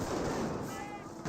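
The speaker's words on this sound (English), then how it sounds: "it is a mortar barrage in that region" Mortar barrage in the Company of Heroes World War II strategy game, a dense, steady rumble of distant explosions and battlefield noise filling the whole moment, loud and continuous with no clear separate blasts.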